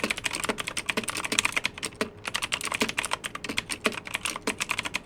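Rapid, steady typing on the cheapest stock mechanical keyboard from Amazon, its keys clacking close and clear in a dense, even rhythm with a brief pause near the middle.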